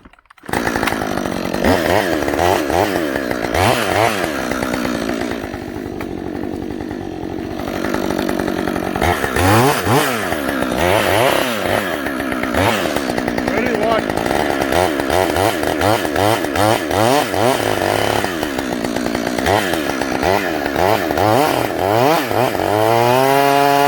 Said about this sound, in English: What I do is I lay the chain on top of the tree and see if it cuts.